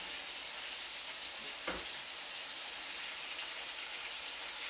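Bell peppers and tomatoes sizzle steadily in a frying pan for a sautéed pork dish with cider, a continuous close hiss with one brief soft knock partway through.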